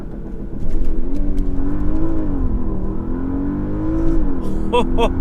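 A Porsche Panamera in Sport Plus accelerating hard from a standstill, the engine note climbing steadily in a loud, sustained rising drone heard from inside the cabin, ending with a short burst of laughter.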